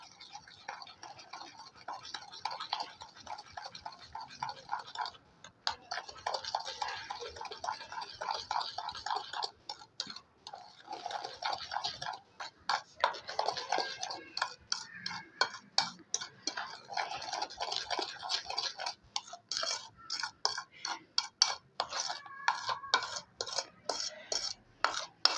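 A whisk taps and scrapes around a bowl as cake batter is beaten with sugar, a fast continuous clatter that keeps up steadily and grows busier and louder toward the end.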